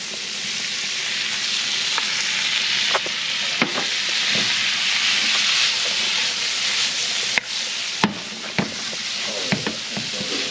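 Tomatoes dropped into a hot frying pan while cooking cod hiss and sizzle steadily, with occasional sharp clinks and scrapes of a utensil against the pan, close and loud with no talking.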